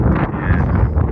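Strong outdoor wind buffets the microphone on a ranch, producing a brief, loud, rumbling blast of low noise.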